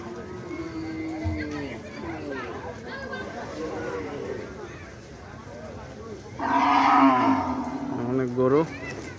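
Cows low repeatedly at the Postogola cattle market, one loud close moo standing out late on, with someone speaking throughout.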